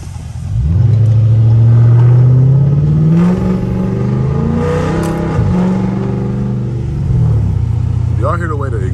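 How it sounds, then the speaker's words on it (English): A loud catless Hemi car engine revs and roars up close, its exhaust crackling and popping between pulls, with a voice briefly talking over it. "Y'all hear the way the exhaust be snapping, bro?"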